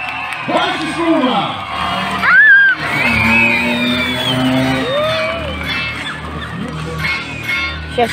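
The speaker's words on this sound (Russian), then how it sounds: "Аплодисменты!" A crowd at a car stunt show cheers, whoops and shouts with some clapping, loud and lively throughout, while an announcer's voice talks over the noise.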